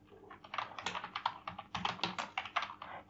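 Rapid, light keystrokes on a computer keyboard while PHP code is written, a quick uneven run of clicks close by and fairly quiet, with no talking.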